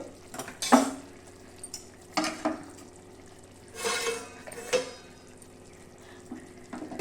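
Cooked gongura leaves being mashed with a wooden masher in a pot, irregular soft thuds and squelching scrapes close by, separated by brief pauses over a faint background hum.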